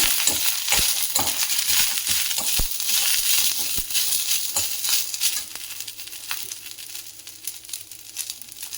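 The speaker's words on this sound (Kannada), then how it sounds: "ಒಂದು ಸ್ವಲ್ಪ ಕೊತ್ತಂಬರಿ ಸೊಪ್ಪನ್ನು ಹಾಕಿಬಿಟ್ಟು ಫ್ರೈ ಮಾಡ್ಕೊಳ್ಳೋಣ" Garlic, curry leaves and coriander leaves fry in a pan with a bright, steady hiss broken by scattered sharp pops and stirring scrapes, easing slightly toward the end.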